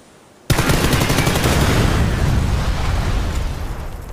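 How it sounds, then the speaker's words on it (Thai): A car blows up after being shot in the PUBG video game, a sudden loud blast after a brief quiet moment, followed by a sustained roaring, crackling burst that slowly fades. "กูยิงรถให้ระเบิดไปนึง"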